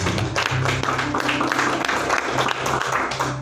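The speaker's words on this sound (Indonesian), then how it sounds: "Beri tepuk tangan buat Tuhan." Congregation clapping in praise at a church service, a steady, dense wash of hands throughout, with a voice and low musical tones running beneath.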